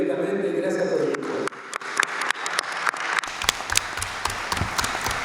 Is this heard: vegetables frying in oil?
no